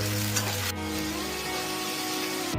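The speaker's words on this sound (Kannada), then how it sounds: "ಫಸ್ಟು ಹಾಗಲಕಾಯಿನ ಫ್ರೈ ಮಾಡ್ಕೋಬೇಕು." Bitter gourd pieces fry in hot oil for a spicy potato karela dish, giving a dense, even sizzle nearby with a steady hum underneath and no voices.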